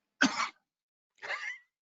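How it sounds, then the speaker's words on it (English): Two short, dry coughs from one person, close to the microphone and separated by about a second of silence. "with me coughing right then and there"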